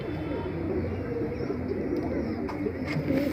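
Domestic pigeons, chura-type birds kept in a loft, coo steadily in a low, soft, overlapping murmur from several birds close by, with faint background noise.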